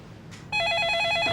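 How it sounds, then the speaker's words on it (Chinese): An office telephone starts ringing suddenly, a steady, bright electronic trill that holds loud and alone for about a second after a short quiet lead-in. "接电话。"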